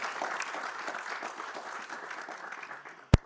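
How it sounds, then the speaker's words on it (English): Audience applause fills a campaign premiere event featuring Sonu Sood: a steady wash of many hands clapping at moderate level throughout, ending with one sharp, loud knock. "Can we have a round of applause?"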